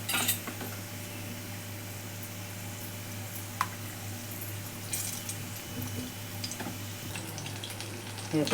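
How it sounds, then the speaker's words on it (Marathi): Chilli rings dropped one by one into hot oil for crispy mirchi bhajiya, giving a steady soft background sizzle with occasional light clinks, no talking. "अशा तेलामध्ये एक एक करून सोडलेले"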